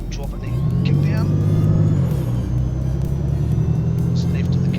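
Bus engine and gearbox in the simulator game OMSI 2, a steady low diesel drone that swells as the kickdown engages, holds, then dips and settles into a continuous rumble with faint high whine above.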